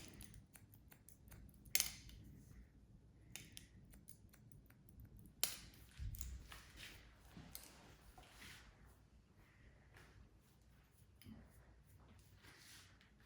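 Scissors point cutting hair on an undercut bob: a series of quiet, close snips and clicks scattered through the clip, with a few sharper snaps standing out against faint background rustle.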